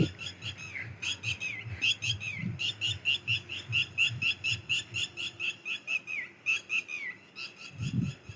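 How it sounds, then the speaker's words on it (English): Birds chirp in quick repeated bursts, a steady run of high tweets that continues almost nonstop, with a low rustle in the background. "what are those birds?"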